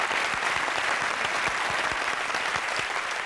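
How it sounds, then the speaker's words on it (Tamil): A studio audience on both sides gives VTV Ganesh a big round of applause: dense, continuous clapping at an even, fairly loud level with a faint rhythmic low thumping beneath. "VTV கணேசருக்கு ஒரு மிகப்பெரிய கைத்தட்டு ரெண்டு சைடுல இருந்து."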